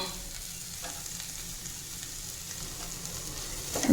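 Grated coconut sizzles and crackles in a hot pan while being sautéed and stirred, ending with a louder scrape of a utensil; no speech.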